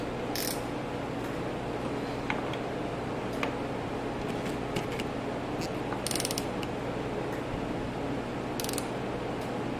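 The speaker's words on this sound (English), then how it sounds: "now we'll go ahead and torque those to 7 foot-pounds." A ratchet torques the throttle body bolts on a 2007 Nissan Versa to 7 foot-pounds in a crisscross pattern. Its quick clicking bursts come close by and repeat intermittently over a steady low mechanical hum.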